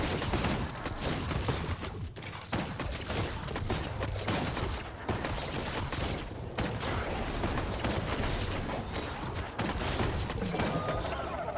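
Gunfire in the video game Biomutant, a continuous stream of loud, rapid shots and blasts blending into a dense, crackling barrage.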